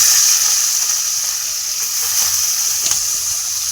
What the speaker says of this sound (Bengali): এবার আমি এর মধ্যে চিংড়ি মাছগুলো দিয়ে দেবো।